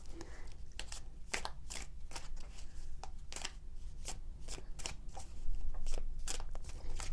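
Tarot cards shuffled and drawn by hand, a brisk series of crisp papery slaps and riffles in an irregular rhythm, close up over a low steady hum with no talking.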